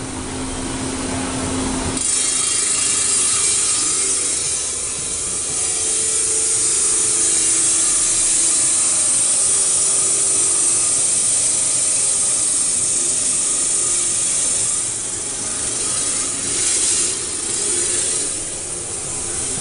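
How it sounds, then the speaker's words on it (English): A diamond saw cuts glass with water: a steady, hissing, high-pitched cutting sound runs continuously for the whole stretch, with a low hum briefly audible at the start. "So we actually take it to a diamond saw with water."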